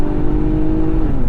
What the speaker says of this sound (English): We've got that sport exhaust back there making a pretty good sound.